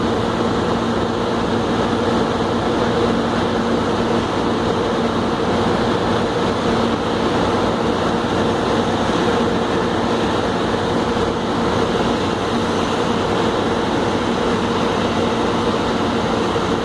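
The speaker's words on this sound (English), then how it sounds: "Here comes the scraper." A heavy earthmoving scraper drives across a dam repair site, its engine a steady, continuous rumble with a broad mechanical roar that holds level throughout, no voices over it.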